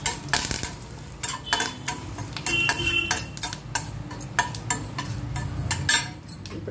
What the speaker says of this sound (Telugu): ఇంగువ, కొంచెం కరివేపాకు, కారానికి తగినట్టుగా ఒక ఎండుమిర్చి వేస్తున్నానండి